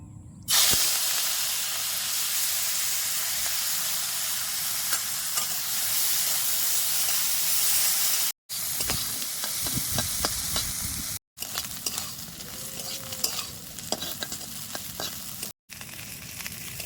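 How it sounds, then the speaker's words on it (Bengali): Prawns fry in hot mustard oil in a wok, a loud, dense close-up sizzle and hiss with crackling spatter, broken by a few brief cuts to silence. "এখন চিংড়ি মাছগুলো দিয়ে বাইজে নেবো"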